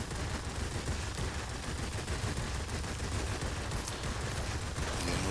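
P-38 fighter aircraft guns firing in World of Warships, a dense, continuous rattling stream of rapid automatic fire, loud and close, with no voice over it.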